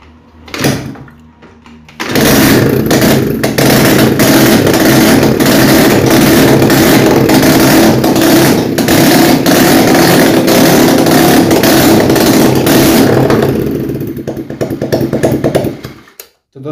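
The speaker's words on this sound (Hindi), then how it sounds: "दोस्तों देख सकते हैं एक किक में ये स्कूटर स्टार्ट हो गया" A Honda Aviator scooter starts on a single kick after its spark plug cap is refitted. The engine catches at once and runs loud and steady at close range for over ten seconds, then drops away as it shuts off.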